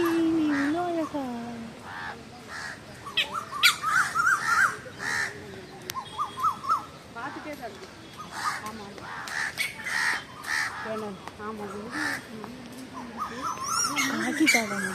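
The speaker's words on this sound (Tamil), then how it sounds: "காக்கிதா குயிலை துரத்தி விடுது." Crows caw repeatedly in a green outdoor setting of trees as they chase off a koel, the harsh calls loud and near, mixed with other bird calls and a voice speaking over them.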